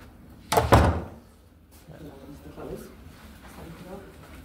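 A door in a building is opened with a heavy thunk and rattle near the start, followed by quieter handling sounds and voices talking in the background.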